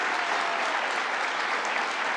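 Applause for the mayor at a government water infrastructure event in Mount Vernon, a continuous, even wash of clapping from a sizable audience, steady and unbroken throughout the short stretch.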